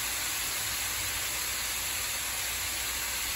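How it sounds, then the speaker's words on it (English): Vegetables sauté in a pan over medium-high heat for Cajun chicken pasta, giving a steady, even sizzling hiss that holds constant without pause, moderately close. "Sauteing the vegetables do not take long on a medium-high heat, as you can see."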